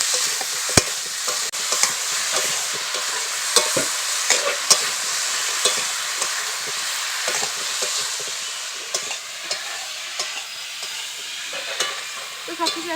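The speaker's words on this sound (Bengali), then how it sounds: "1/2 চামচ হলুদ গুঁড়ো, 1/2 চামচ লঙ্কার গুঁড়ো করে কষিয়ে নেবো এটাকে" Rohu fish pieces are sautéed in hot oil with salt, turmeric and chili powder, a constant close sizzle with repeated scraping and tapping from a stirring spatula, steady and loud with no talk.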